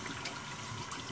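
Water runs steadily over a safety razor under the tap as it is rinsed, a faint, even splashing hiss with no talking.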